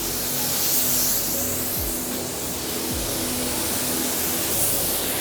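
A Fujispray v8 HVLP spray gun set to 26 PSI lays down a wet base coat, producing a loud, continuous close-up hiss of air and spray with slight swells and no talking.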